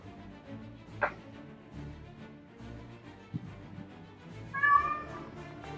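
A cat meows twice, a short faint call early and a longer wavering meow near the end, against a quiet room with low background murmur.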